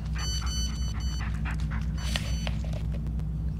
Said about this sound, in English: you might hear two barks because my dog Echo is here too.